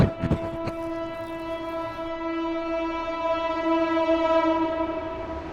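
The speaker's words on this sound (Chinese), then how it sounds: "我正在等玉屏到贵阳的火车。" At Yuping railway station in China, a train sounds a long, steady horn with stacked tones after a couple of sharp clanks, the blast sustaining and swelling slightly over several seconds.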